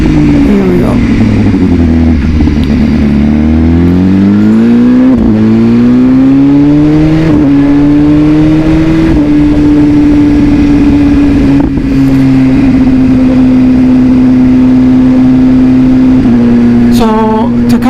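A BMW S1000RR sport motorcycle engine roars close by, revving up through rising pitch, then dropping as it downshifts, holding a steady high drone afterward.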